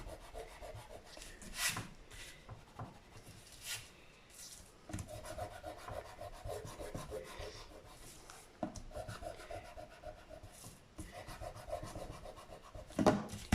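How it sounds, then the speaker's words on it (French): A rubber eraser rubbing over paper while folding a gift box, quiet steady scrubbing strokes close by with brief pauses, no talk. "Je vais gommer ça."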